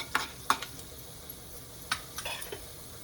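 Urad dal and chana dal frying in hot oil, with a faint steady sizzle broken by a few sharp spoon-and-pan scrapes and clinks as the lentils are stirred; no one speaks.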